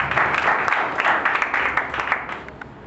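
Church congregation clapping together in applause during a Spanish-language service, a dense, fairly soft patter of many hands heard from across the room.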